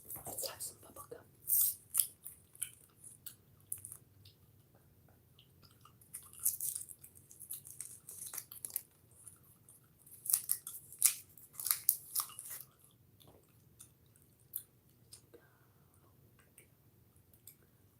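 Bubble gum is chewed close to the microphone, with quiet wet clicks and smacks coming in irregular bursts between near-silent pauses.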